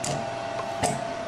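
Automated disc printer working on a DVD or CD as it picks up the next disc, heard as a steady mechanical hum with faint clicks and a soft clunk near the end, close and quiet.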